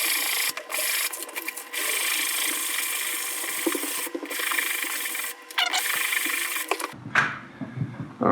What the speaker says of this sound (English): And just sand away the tops a little bit.